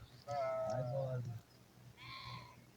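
Sheep bleat at a sheep farm in Chitlang: one long, wavering, loud bleat up close, then a shorter, higher call after a brief pause.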